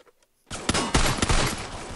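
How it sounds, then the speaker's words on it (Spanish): Gunfire in the Free Fire battle royale video game: after a short near-silent lead-in, a dense burst of loud, rapid shots cracks in a close, continuous volley. "Que me ha matado de dos tiros."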